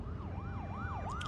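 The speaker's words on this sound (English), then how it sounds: "That's a lot of police cars." Police car sirens in a video game wail in smooth rising and falling sweeps, about three cycles, moderately distant and quiet with no talking.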